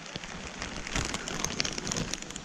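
Rain falls on the Anjaneri Hills trail near Nashik, Maharashtra, with dense, crackling patter on surfaces and rain covers close by, continuous and moderately loud, and no speech.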